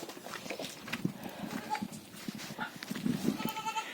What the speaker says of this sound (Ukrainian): Ми хочемо з Олічкою годувати коз, кіз і годувати курочок